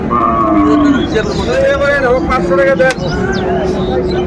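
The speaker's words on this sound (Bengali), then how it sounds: "আমরা দেখছিলাম এখানে বেশ সুন্দর গরুগুলো" Cattle low and moo at a busy Eid cattle market in Ambari, Dinajpur, where large bulls are traded; several loud moos, near and far, over constant crowd chatter and talk.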